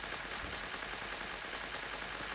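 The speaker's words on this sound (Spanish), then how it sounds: "esta arma tiene mucha cadencia" Rapid automatic gunfire in a video game rattles on without pause, a dense continuous burst of shots with no voices.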